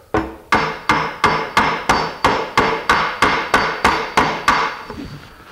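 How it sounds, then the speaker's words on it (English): Two hammers strike each other blacksmith-style to tighten a loose wooden joint on a pie safe, giving about fourteen loud, evenly spaced metallic knocks that ring briefly, with no talk. "just like a blacksmith, two hammers."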